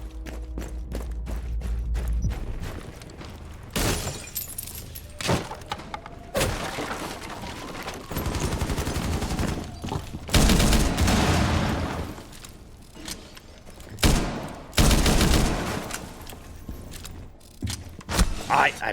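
Gunfire in a Rainbow Six match comes as repeated sharp bursts and single shots, some loud and close, with talk over it.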